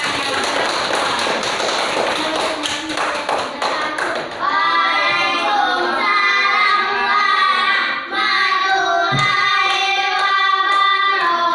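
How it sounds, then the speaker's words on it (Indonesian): A group claps for a class team at a school gathering, dense continuous applause with scattered individual claps throughout, loud and close, with a few faint voices mixed in. "berikan tepuk tangan untuk kelompok hewan"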